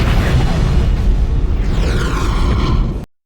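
A thermite grenade detonates in a Babylon 5 science-fiction scene: a loud, sustained roaring blast lasting about three seconds, with a sweeping whoosh layered on top, before it cuts off abruptly.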